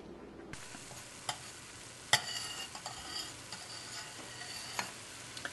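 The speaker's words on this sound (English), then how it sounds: "So we are still sauteing the peppers to get them softened so we can add more ingredients to the recipe" Bell peppers and sweet corn for a relish sauté in a pan, a soft constant sizzle broken by repeated scraping stirs and a few sharp utensil knocks.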